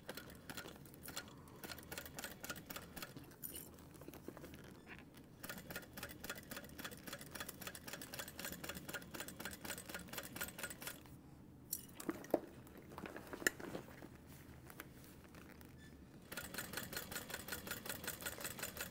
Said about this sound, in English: we're going to top stitch an eighth of an inch from the top edge